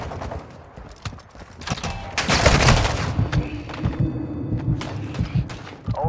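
Gunfire rattles in Call of Duty Warzone DMZ: sharp shots and short bursts crack in an irregular rhythm, with a louder flurry midway, heard up close and alone.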